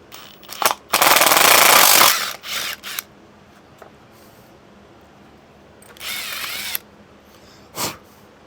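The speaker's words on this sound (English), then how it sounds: "with your air valve, you're gonna do the 3/8" Power drill with a 3/8 bit boring a hole for the air valve of a homemade off-grid solar gravity shower: one long loud whirring burst, then shorter bursts and brief whirs, close up and free of talk.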